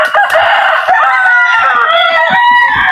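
Native chickens cluck and crow close by in a short burst, a rooster's cock-a-doodle-doo rising over overlapping hen calls in a backyard flock.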